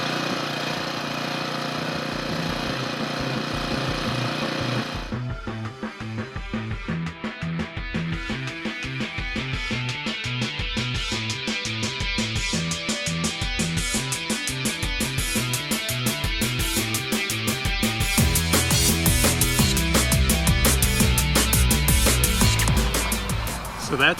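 A Toro Greensmaster Flex 21 walk-behind reel mower cutting a sports field: after about five seconds a close, steady engine hum sets in with a fast rhythmic clatter from the reel, continuing and getting slightly louder to the end.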